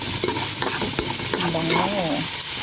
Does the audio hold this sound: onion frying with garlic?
yes